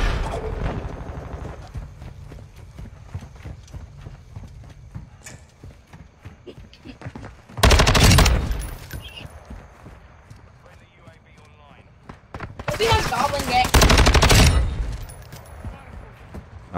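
A light machine gun in a video game fires in two loud, sustained bursts of rapid shots, separated by quieter stretches of game noise and talking players.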